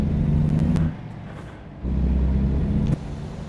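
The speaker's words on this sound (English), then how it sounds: "Is that another rough shift I just heard?" A truck engine in American Truck Simulator drones steadily, with its low rumble dropping abruptly twice and rising again in between, like rough, clunky gear changes.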